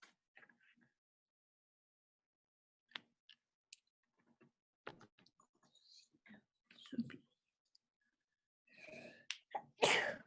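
A single sharp sneeze bursts out near the end after scattered quiet clicks and small mouth noises during an online chemistry class call, with no talking.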